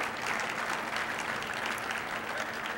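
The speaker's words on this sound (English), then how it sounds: "that's getting a big applause in case you can't hear it over there" Audience applause from a live crowd at a talk, steady dense clapping that holds at an even level throughout, fairly near and without a break.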